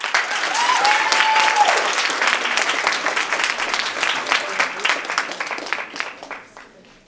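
An audience at a poetry recitation competition bursts into sustained clapping, many hands at moderate distance, with a brief whoop near the start, then thinning and fading away by the close.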